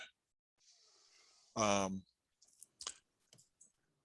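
Sharp mouse clicks at a desk, a few separate clicks after a brief louder burst, close and fairly faint in an otherwise quiet room.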